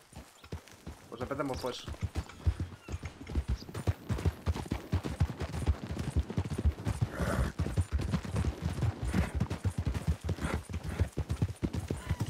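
Horse hooves gallop in a steady, rapid clip-clop in the RedM western roleplay game, with close voices talking over the hoofbeats throughout.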